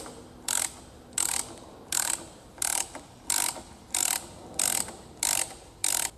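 A tool pushes a Cummins fuel injection pump out of its housing, giving nine evenly spaced ratcheting bursts about two thirds of a second apart, close and clear with no speech.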